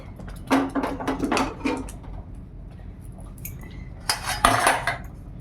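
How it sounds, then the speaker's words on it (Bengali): A metal kadai set down on a kitchen stove: a few close clanks and scrapes of cookware, then quiet, then a louder clatter of metal on metal. "এইবার অন্য একটা কড়া বসিয়ে দিলাম।"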